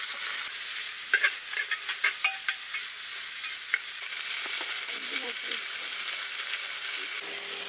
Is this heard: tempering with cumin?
yes